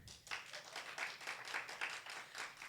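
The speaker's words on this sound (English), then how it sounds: "please, by round of applause" A small audience claps in a faint, brief round of applause, the individual claps distinct and fairly even in rhythm.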